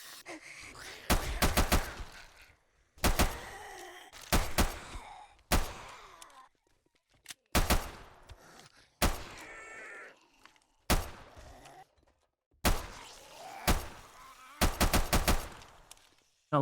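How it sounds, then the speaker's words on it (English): Automatic weapon fire in the video game 7 Days to Die, in a downtown part of the map while fighting zombies: loud, rapid bursts of shots repeat about every two seconds, separated by short silences, with no talking. "I love shooting guns in a downtown part of the map"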